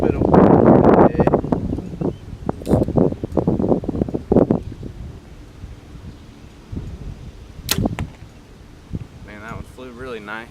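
Wind gusts buffet the microphone outdoors during an archery broadhead test, a loud rumbling rush at the start that eases into lighter gusting, with a few sharp knocks and faint voices toward the end.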